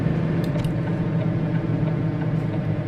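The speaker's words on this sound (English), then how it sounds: "The audio from the truck sounds echoey." Truck engine audio in Euro Truck Simulator 2 while driving through Nordic scenery: a steady low droning hum with a faint mechanical whine and a few light ticks, continuous and even, without talk.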